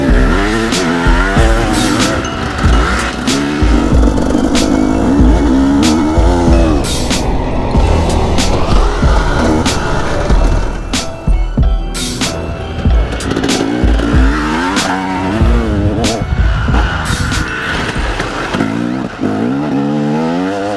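A motorcycle rides a training course in third gear with the throttle open. The engine drone sits close and loud, its pitch climbing and falling through repeated revs over the whole stretch.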